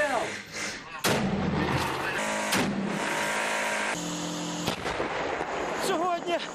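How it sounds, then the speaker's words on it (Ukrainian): Dense, continuous battle noise from tank and mortar fire at Donetsk airport, heavy booming blasts and gunfire, loud and close, with sharp explosive onsets around a second in and again later. "За кілька хвилин в аеропорту лунають десятки вибухів"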